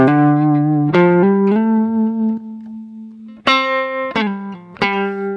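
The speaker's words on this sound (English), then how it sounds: "the distortion sounds pretty good" An electric guitar plays through the distortion preset of a Boss RC600 loop station: a few long sustained, buzzing notes, then sharper, louder struck chords ringing out in a close, dry sound.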